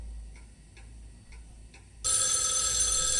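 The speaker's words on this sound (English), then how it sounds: "What? Another phone call?" A telephone rings loudly and steadily from about the two-second mark in the video game Spirit Hunter: NG, after faint, evenly spaced clock ticks; no one speaks.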